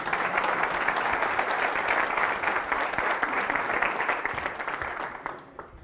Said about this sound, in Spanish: Un aplauso, que esta me costó.